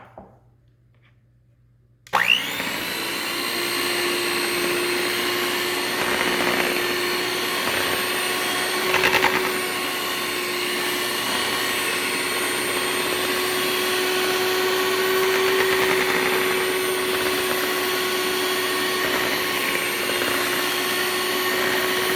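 An electric mixer beating marble cake batter switches on after a short quiet start and runs with a steady whirring motor hum, close and loud, with no talking.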